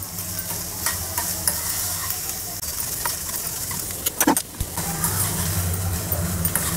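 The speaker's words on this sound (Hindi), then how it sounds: "इन सबको डालकर भून लेते हैं" Chopped vegetables sizzling steadily in a pan over a medium flame, a constant close frying hiss with occasional scrapes and clinks of a spoon stirring them.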